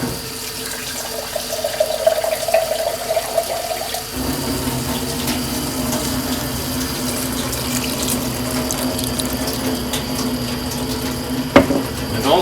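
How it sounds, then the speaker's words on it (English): Water pours from a tap into a pot of potato soup, a steady rushing flow that shifts in tone as the pot fills, followed by scraping and clinking of utensils in the pot, with no talking. "we're gonna add some water."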